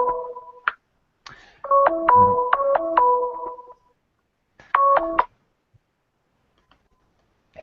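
Mobile phone ringing with loud, close electronic beeping tones in quick, repeated bursts, followed by a gap and a shorter burst, then silence. No talking is heard.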